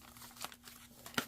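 Paper being folded back on a junk journal page, two short crisp crinkles about a second apart, close and fairly quiet with no talk.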